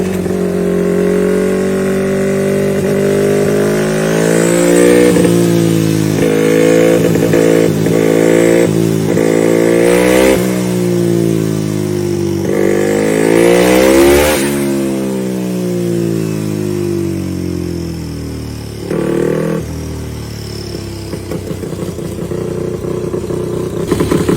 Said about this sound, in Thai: เดี๋ยวเราจะพาไปดูการเททดสอบเครื่องยนต์นะ